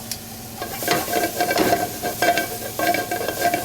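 Vegetables, including roasted butternut squash and haricots, sizzle in a hot pan with a steady frying crackle, broken by repeated scraping stirs of a utensil, close and moderately loud.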